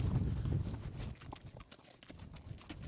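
A horse being ridden into a village in the Mongolian wilderness clip-clops steadily, its hooves close and fairly loud, with rustling and some outdoor noise.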